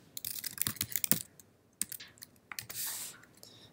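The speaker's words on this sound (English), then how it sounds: "So if you press here and then type in your node address" Computer keyboard typing a node address: close, clattering bursts of keystrokes in uneven clusters, with a short pause in the middle before a final run of clicks.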